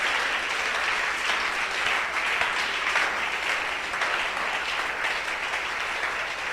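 A church congregation applauding during a worship service, loud, continuous dense clapping sustained evenly from start to finish, close and full with no pauses.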